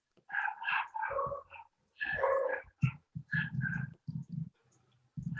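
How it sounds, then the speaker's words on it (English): Neighbors' dogs bark outside in a string of short, separate bursts, heard at moderate distance and fairly faint, with brief pauses between the barks. "Those your dogs, or your neighbors got dogs?"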